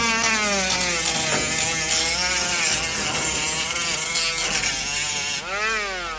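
A small cordless angle grinder whines loudly up close, its pitch dipping and rising as it bites into the surface while stripping paint, with a gritty cutting rasp.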